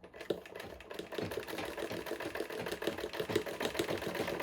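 A sewing machine back-stitching a bodice seam runs in short, quiet, rhythmic bursts of mechanical whirring and needle clatter, close by and fairly faint.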